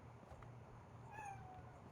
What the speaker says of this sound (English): every time I start talking, this cat wants to start meowing today